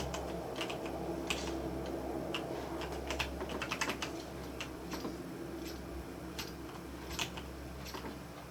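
Steady, rapid clicking of a Logitech G810 mechanical keyboard being typed on during a PUBG game, sharp key clacks close and clear over a low background hum, no voices.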